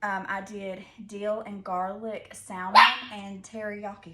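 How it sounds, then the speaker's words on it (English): A dog barks sharply a few times close by, breaking in over someone talking steadily. "Sorry, that was our dog."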